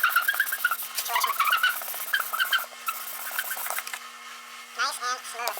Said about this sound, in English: Let's do some progressive sanding.